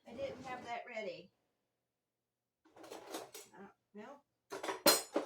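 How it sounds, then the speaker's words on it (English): A spatula and spoon clink and clatter among unwashed dishes in a home kitchen, several short bursts of metallic rattling separated by a pause, close and fairly loud. "Let me get a spatula and a spoon."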